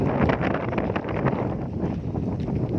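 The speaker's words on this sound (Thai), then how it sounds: "ลมแรงมากเลย" Strong wind buffets the microphone outdoors at the hilltop temple of Khao Yoi in Hua Hin, a continuous loud roaring rush with gusty fluctuations and no speech.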